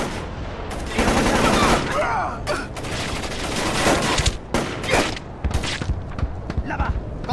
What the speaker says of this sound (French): Il nous tire dessus.